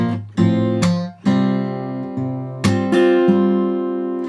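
A distorted electric guitar plays a short passage of sustained chords and picked notes, each attack ringing out clearly, with no talking.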